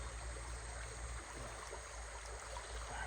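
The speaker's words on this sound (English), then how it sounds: "this is definitely a freshwater stream as it's coming straight out of the mountains" A freshwater mountain stream in the Costa Rican jungle flows with a soft, steady rushing wash, faint and continuous with no voices.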